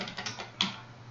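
Typing on a computer keyboard, quiet irregular key clicks with one sharper, louder keystroke partway through, heard close and alone.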